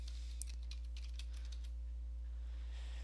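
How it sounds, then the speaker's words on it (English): Keys on a computer keyboard are typed in a quick, light burst of clicks over a steady electrical hum, then the typing fades off. "we're going to type in Services"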